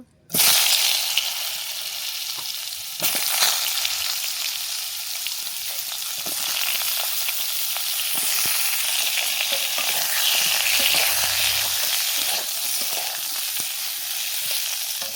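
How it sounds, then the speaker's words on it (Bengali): Pointed gourd (potol) pieces fry in hot oil in a pan, a steady loud sizzle running the whole time with scattered pops and crackles and occasional stirring scrapes, no voices. "পটলটা ভেজে নেব।"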